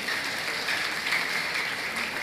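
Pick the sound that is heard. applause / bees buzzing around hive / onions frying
applause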